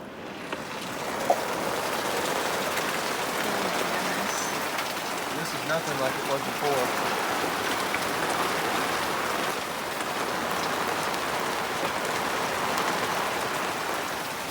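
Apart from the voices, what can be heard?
heavy rain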